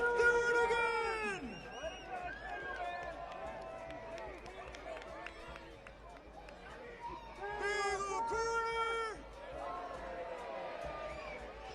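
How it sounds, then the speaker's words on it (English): Stadium crowd at a professional soccer match between Monterey Bay FC and Pittsburgh Riverhounds roars and chatters for a corner kick, a broad sustained swell rising and falling under loud, close play-by-play commentary. "They're cheering for the Bagel 1 corner kick"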